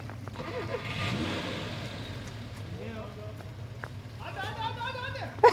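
A Lada Niva off-road car's engine rumbles and revs steadily on an off-road course, with people talking and laughing over it throughout.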